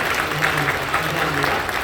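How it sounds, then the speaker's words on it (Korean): A church congregation at a Korean Sunday worship service claps to welcome a first-time visitor, a steady, fairly dense round of applause with a faint tonal hum from the room underneath. "여러분을 뜨겁게 박수로 환영해 주시면 감사합니다."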